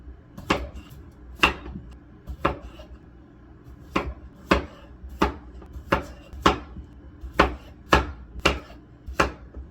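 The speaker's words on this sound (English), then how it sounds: "we're gonna just cut these potatoes up probably into quarters, and then the carrots, maybe just cut them in half" A knife chops potatoes and carrots on a cutting board, with about fourteen sharp, close knocks in a steady, unhurried rhythm.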